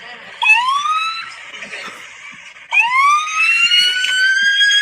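A kid imitates a police siren with his voice, two rising, wavering wails, the second louder and held longer, fairly close and without other talk.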